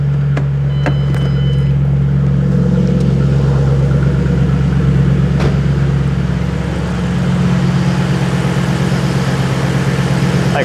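A V8 car engine idling just after starting: a loud, steady, deep rumble with a constant throb that holds evenly throughout, heard close and alone.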